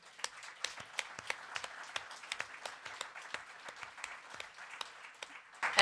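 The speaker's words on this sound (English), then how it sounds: "please join me first with a round of applause for our speakers" A small audience at a panel on safeguarding children from online sexual abuse gives the speakers thin, scattered applause, with distinct individual claps in a loose, uneven rhythm over a quiet room.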